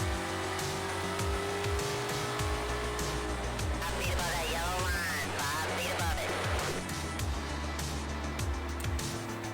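An 850-horsepower NASCAR stock car accelerates hard around Atlanta Motor Speedway while passing, a loud continuous engine roar with rising gear-change sweeps and steady track noise throughout.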